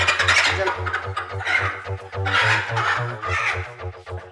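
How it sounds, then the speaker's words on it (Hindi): A chicken clucks repeatedly in short bursts, close by, with a steady low rhythmic thumping running underneath. "जा पुत्र बरकत, जल्दी से टोकरे के नीचे से मुर्गी ले आ"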